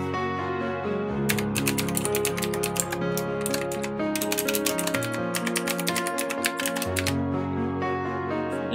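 Quick bursts of keystrokes on a computer keyboard while login details are entered, bright clicky taps arriving in fast runs separated by short pauses over a steady background hum.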